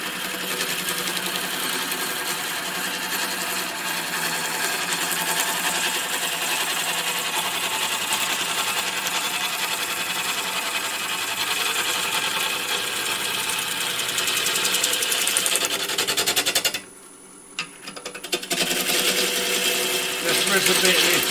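A power saw cuts a side bevel in wood with a loud, steady buzzing drone that runs continuously, cuts out briefly near the end, then starts again.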